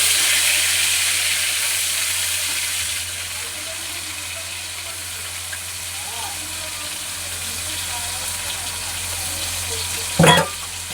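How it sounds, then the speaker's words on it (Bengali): Fish oil frying in a pan for a spinach dish, a steady broadband sizzle running throughout, loudest at the start and easing slightly, with a brief sharp clatter near the end. "প্রথমে মাছের তেলটা ভেজে নেব।"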